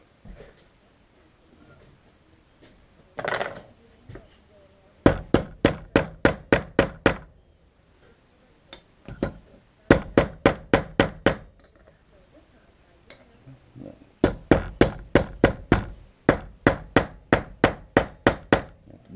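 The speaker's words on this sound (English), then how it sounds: "If you hit that handle too hard with the hammer" A hammer strikes a knife handle during knife making, fast bursts of sharp metallic taps in three or four clusters of about eight blows each, close and loud, separated by short pauses.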